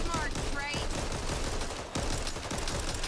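Rapid, continuous gunfire from guns in the game Back 4 Blood, a dense, loud stream of shots with brief gaps, while players talk over it.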